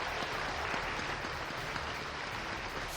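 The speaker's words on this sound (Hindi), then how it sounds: "मोदी के लिए तालियां बजा रही ऑडियंस में आईआईटी दिल्ली से पास आउट हुए इंजीनियर्स हैं।" An audience of IIT Delhi engineering graduates claps for a politician, a dense, steady wash of applause filling the whole stretch at moderate distance.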